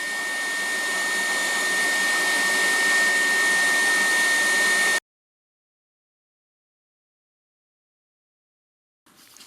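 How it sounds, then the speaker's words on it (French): Silvercrest SHZK 600 A2 corded 600 W vacuum cleaner running with a loud, steady whine and rush of air that cuts off abruptly about halfway through, followed by silence and a brief restart of the motor at the very end. "Vous voyez là par exemple sur cet aspirateur là, la sortie d'air est vers l'avant"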